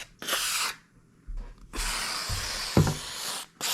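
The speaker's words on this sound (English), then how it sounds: "I'm just gonna give it a good spray in" Aerosol lubricant sprayed into a stuck, hard-to-open window track and down a hole in it: loud, close hissing bursts, a short one then a long sustained spray with a brief final burst, separated by quiet gaps with faint handling noise.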